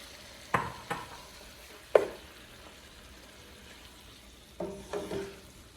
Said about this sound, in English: to this, we'll go ahead and add our kimchi and let that heat up some.